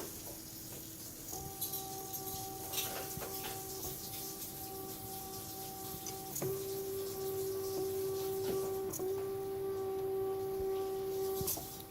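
A CNC plotter traces a 3-inch box, its faint motor producing thin, steady whining tones that shift pitch at each corner and briefly pause, against a quiet background.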